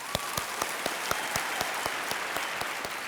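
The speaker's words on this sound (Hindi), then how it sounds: "तालियां हो जाए इनके लिए" Studio audience at a televised quiz show applauding a contestant's parents, a short burst of rhythmic, evenly spaced group clapping, fairly close and loud, with no talking over it.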